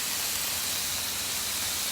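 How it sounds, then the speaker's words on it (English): Potatoes fry on a griddle with a steady, even sizzling hiss that holds unchanged from start to finish, with no voices. "And the potatoes are frying."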